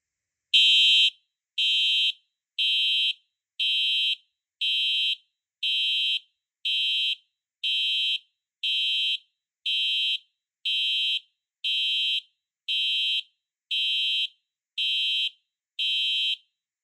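A Simplex 4903-9252 fire alarm horn strobe sounds in pulse mode, sharp, loud electronic blasts repeating evenly about once per second, with nothing else heard between them.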